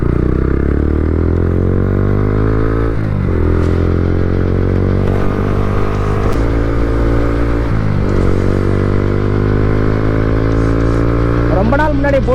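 A Bajaj Pulsar NS160 motorcycle fitted with an Akrapovic R1M exhaust rides along. A loud, close engine drone climbs in pitch, dips at each gear change three times, then keeps revving steadily.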